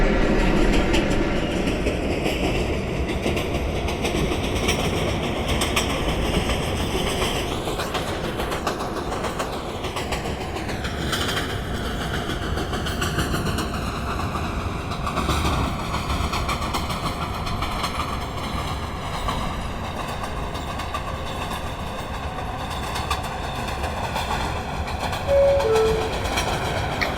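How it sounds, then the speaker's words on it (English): A downtown express 5 train on the New York subway pulls into a station: a loud, continuous rumble and clatter of wheels on rails, with metallic squeals that rise and fall as the train slows. "Is downtown Express 5 train. Approaching the station, please stand away."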